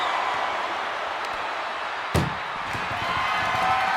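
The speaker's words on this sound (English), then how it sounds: "Powerbombed into the back of the ambulance." In the video game WWE 2K25, a single heavy slam lands mid-clip as a wrestler is powerbombed into the back of an ambulance, a sharp thud over a constant roaring crowd-like background noise.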